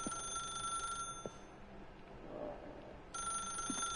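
Electronic telephone ringing in The Stanley Parable, two clear bursts of bright trilling rings separated by a quiet gap, faint and without talk.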